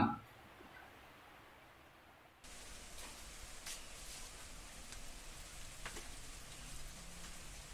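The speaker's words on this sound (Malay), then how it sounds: "Hari tu hujan." Steady rain hisses across the whole clip, jumping louder after a couple of seconds and continuing as a dense, even patter.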